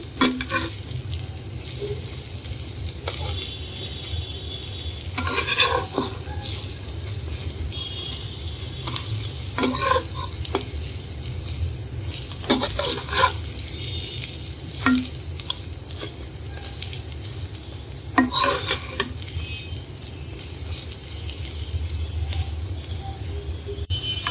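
Pakoras fry in hot oil with a steady, close sizzle, broken now and then by sharp clicks and scrapes of a utensil turning them in the pan.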